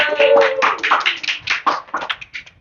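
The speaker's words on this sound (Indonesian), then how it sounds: "Tepuk tangan dong." A few people clap close by in a small studio for a talk show, a loose cluster of sharp claps that thins out and trails off, with some voice over the start.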